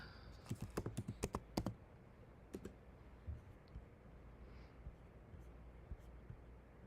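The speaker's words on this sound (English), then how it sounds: "And then type in lilac." A computer keyboard is typed on during a Cricut Design Space session: a quick burst of about eight to ten clicks, then a few scattered, fainter keystrokes over a quiet room hiss.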